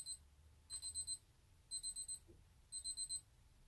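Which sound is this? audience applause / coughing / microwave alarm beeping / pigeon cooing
microwave alarm beeping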